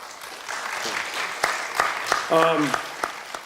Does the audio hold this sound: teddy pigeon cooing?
no